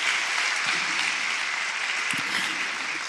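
A church congregation at a sermon applauding together, a dense, continuous wash of clapping from many hands sustained at an even level throughout.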